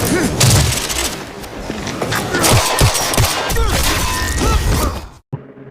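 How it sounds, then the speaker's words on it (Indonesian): A gunfire exchange in an action film about a corrupt cop caught in a triad mafia war: dense, rapid shots and booming impacts crowd a busy soundtrack for about five seconds, then cut off abruptly. "Setelah baku tembak singkat, Patrick akhirnya berhasil menembak mati"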